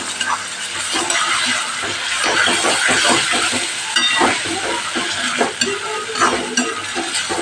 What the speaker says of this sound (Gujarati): ટમેટું ઉમેરી દઈશું એને પણ સરસ આપણે મિક્સ કરીને સાતળી લેશું